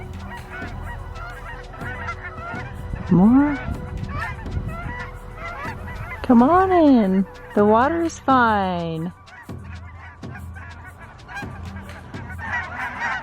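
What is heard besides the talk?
Canada geese honking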